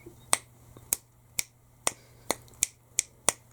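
Eight crisp finger snaps ring out at an irregular, unhurried pace, sharp and close against a quiet background with a faint steady hum.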